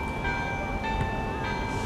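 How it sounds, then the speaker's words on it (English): The Kerrytown Chime, a mini carillon of 17 tower bells played by levers at a farmers market, rings sustained, overlapping bell tones, moderately loud and steady over a brief stretch. "play a ditty on the Kerrytown Chime"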